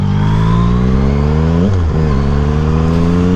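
Yamaha MT-09 motorcycle engine held at high revs with the throttle then blipped up around 5,000 RPM for a wheelie in second gear, loud and close, a continuous buzzing roar with a brief dip and rise in pitch.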